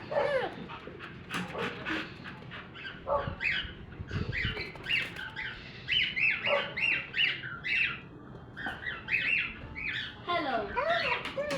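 A white-faced cockatiel gives repeated sharp, loud squawks and chirps in bursts close by, mixed with other animal noises and people talking throughout.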